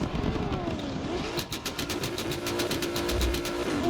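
A drift car's engine revs hard during a top 8 battle at a drift competition while chasing a BMW, a loud, sustained, rising and falling engine drone with a rapid staccato rattle mid-run and no talking.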